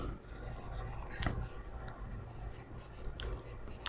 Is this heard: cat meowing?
no